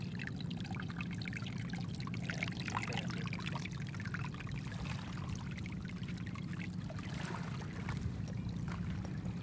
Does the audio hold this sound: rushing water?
yes